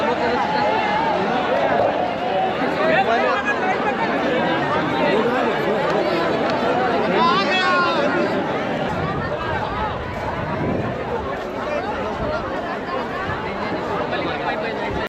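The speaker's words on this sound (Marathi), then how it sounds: "गर्दी बघा गर्दी किती आहे गर्दी" Huge pilgrim crowd at the Mahakumbh in Prayagraj, a loud, constant babble of many voices and shuffling footsteps close around, with occasional nearer shouts rising out of the throng.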